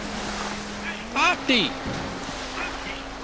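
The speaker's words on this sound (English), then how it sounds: "Oh, okay, I guess I got the boat." A boat on open water in GTA 5 Online runs with a steady engine drone under wind and wave wash, while a voice shouts briefly over it.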